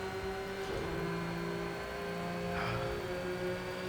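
Simulated racing car engine in a video game, lapping the Nordschleife at about half throttle in fifth gear, droning steadily with layered tonal whine for the whole stretch, no voices.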